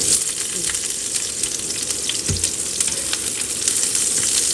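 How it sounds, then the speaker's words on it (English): Garlic and onion fry in a little oil with a loud, continuous close sizzle, crackling evenly, and one brief low thump partway through; no one speaks. "A little bit of oil, garlic, and the"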